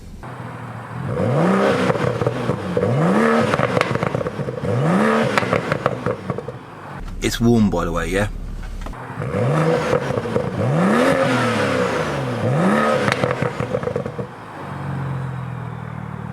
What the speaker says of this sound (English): Let's have a little listen to see what it sounds like when you rev it